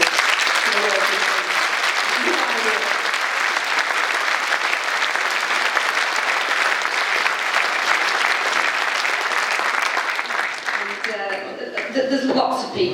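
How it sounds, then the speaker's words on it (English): A meeting audience gives a loud, sustained round of applause that fills the room for over ten seconds, then thins as voices come through near the end. "I'd like you all to give him a round of applause."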